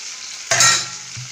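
Elephant foot yam frying and being stirred in a pan, a brief loud sizzle surging as the pieces are turned, over a steady background crackle of hot oil.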